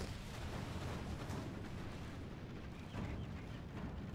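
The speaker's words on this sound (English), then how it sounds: "Lay down the barrage on these bodyguards." Dense, continuous rumble of an artillery barrage in a Middle-earth strategy game mod, a steady wash of distant blasts blending together with no distinct individual shots, fairly quiet throughout.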